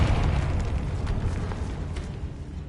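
A Confringo explosive spell goes off in Hogwarts Legacy, a low, rumbling blast that fills the whole stretch and slowly fades, loud and close with no talk over it.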